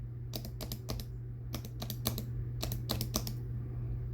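Bursts of keystrokes on a keyboard fitted with lubed Prime Keyboards T1 switches, clicking in quick uneven clusters with short pauses between, close and crisp over a steady low hum.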